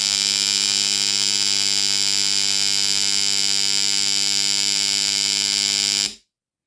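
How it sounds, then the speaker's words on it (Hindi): Washing machine's 7-wire wash timer buzzer sounding a loud, steady electric buzz with a constant hum that holds for about six seconds, then cuts off abruptly into silence. "थोड़ी देर बाद इसका जब टाइम ख़त्म हो जाएगा तो हमारा ये बजर भी बजने लगेगा"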